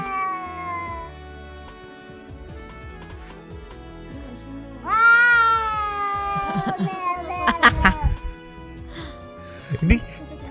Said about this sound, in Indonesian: kasih yang katanya kucing bacot.